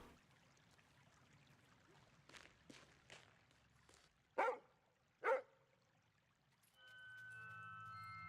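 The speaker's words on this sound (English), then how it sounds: "Oh, there's a dog." Two sharp, short dog barks in the video game Lorelei and the Laser Eyes, spaced about a second apart, with soft footsteps before them and a steady tone rising afterward.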